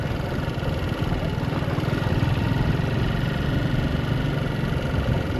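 A motorcycle engine drones steadily on a rough mountain road to Adi Kailash along the India–Nepal border, the low, even hum close and continuous with faint rumbling vibration.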